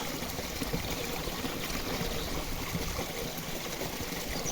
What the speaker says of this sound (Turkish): Gördüğünüz gibi sol tarafımızda ırmak akıyor.